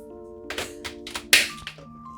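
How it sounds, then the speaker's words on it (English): A dog thumps indoors, a few soft irregular knocks followed by one sharper bump, heard close over a steady electrical hum. "that was my dog"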